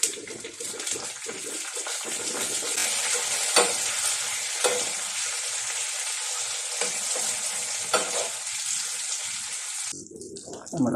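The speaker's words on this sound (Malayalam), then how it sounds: "നമ്മുടെ ഉണക്ക മുന്തിരിങ്ങയും അണ്ടിപ്പരിപ്പും ഇങ്ങനെ മൂത്ത് വരുന്നത് നിങ്ങൾ കണ്ട." Raisins and cashew nuts fry in a pan for a payasam, a steady bright sizzle with occasional stirring clicks running throughout, close and fairly loud, ending in a brief quieter moment.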